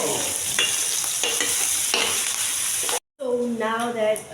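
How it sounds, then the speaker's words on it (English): Onion and beef sizzle and crackle in a hot pan with occasional stirring scrapes, loud and close; after a brief silence a voice speaks over the frying. "now that the onion and meat is frying"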